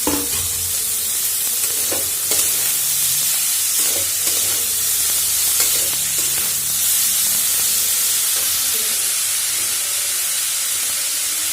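Cabbage frying in a pan for paratha gives a continuous loud sizzle and hiss, with intermittent scraping and stirring strokes against the pan throughout.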